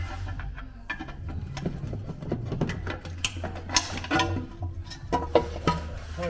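Metal pry bar levering an engine sump pan off a Ford EcoBoost engine, giving scattered scraping, clicking and creaking knocks with a few sharper metallic clanks, close and fairly quiet.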